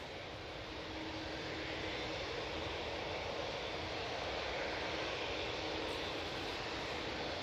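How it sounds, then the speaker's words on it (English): A Loganair ATR 42 turboprop arriving from Inverness at Manchester Airport, heard as a steady broad engine roar with a faint propeller hum, fairly distant and continuous throughout, with no voices. "the prop is a Loganair coming in from Inverness. It's the AR42"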